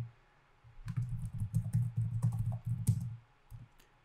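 Steady keyboard typing on a computer keyboard, a run of soft rapid keystrokes that lasts about three seconds, close and fairly quiet, with nobody talking.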